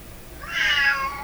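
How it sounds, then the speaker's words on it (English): A distressed house cat meows loudly in a single drawn-out, rising cry close by, swelling in the second half over a quiet room. "Listen to my poor cat."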